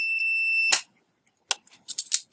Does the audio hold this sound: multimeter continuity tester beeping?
yes